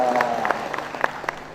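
An audience at an Indonesian government event claps as a DPRD chair is introduced, moderate scattered clapping with a few distinct sharp hits while a voice talks over it.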